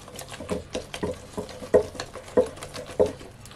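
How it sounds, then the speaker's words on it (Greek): A spoon stirs a light batter with an egg mixed in, producing soft, rhythmic wet patters and taps at a steady pace, close and fairly quiet. "Ανακατεύουμε λίγο"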